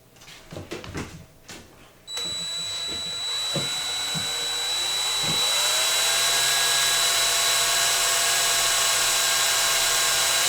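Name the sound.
drilling small holes with a small drill bit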